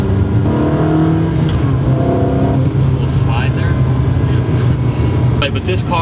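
A Ferrari 360 fitted with a Tubi exhaust accelerates hard, its engine note climbing in loud rising sweeps broken by abrupt gear shifts, heard up close from inside the car.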